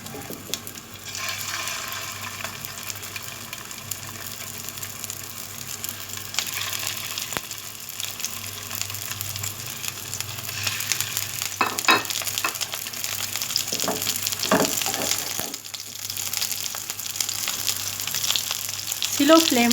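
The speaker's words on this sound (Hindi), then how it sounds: "अब हम फ्राई करना स्टार्ट करते हैं कबाब को।" Beef seekh kebabs fry on a tawa over a slow flame, giving a steady close crackle and hiss with occasional sharper spits and a few clinks as they are handled.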